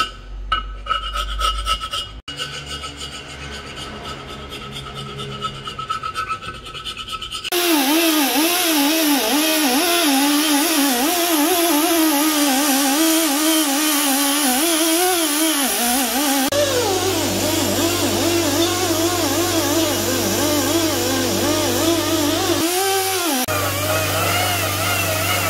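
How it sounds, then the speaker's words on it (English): The face of a BMW M10 engine cylinder head being polished with a power tool and cleaning pad: a harsh, continuous rubbing rasp that starts faintly, then turns loud and sustained, its pitch wavering as the pad sweeps across the metal. "I'm just giving the cylinder head face a second polish"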